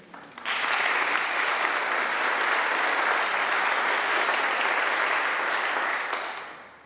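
A church congregation bursts into sustained applause during a Passover and Easter service and claps steadily for about six seconds before fading out. No voices rise above it.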